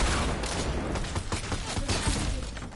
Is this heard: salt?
no